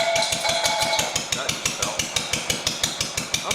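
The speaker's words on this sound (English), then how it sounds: "I'm gonna let it warm up for a minute and then we'll try running it a little bit higher RPM" Engine of a 1971 John Deere 140 garden tractor idling, a rapid, even, loud thumping rhythm close to the microphone, with no speech.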